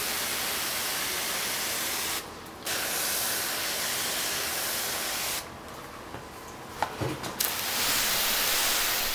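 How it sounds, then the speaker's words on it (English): Steady, loud hissing comes from a pump sprayer nozzle on its stream setting, broken by two short pauses, with a few faint clicks and taps near the end. "And here I am using the sprayer nozzle in the stream setting."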